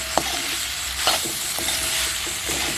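Beef pepper roast being stirred in a pan, Kerala-style dry beef fry, with a few distinct scraping strokes of a spoon against the pan over a steady background sizzle.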